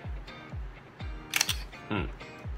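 Shutter of a junk film camera fires, a sharp mechanical snap with a click and whir, set among softer repeated thumps from handling the body at close range.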